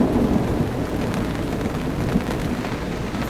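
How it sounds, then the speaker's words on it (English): Deep rumbling thunder rolls continuously beneath a steady hiss of rain, loud and sustained throughout, during a Florida summer storm. "Thunder is still booming."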